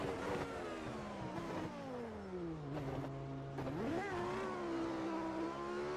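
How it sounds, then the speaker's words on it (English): Race car engine lapping the classic Spa circuit in a racing video game, revving steadily with smooth upshifts and a dip in pitch before climbing again, loud and continuous with no talk over it. "the car sounds so good."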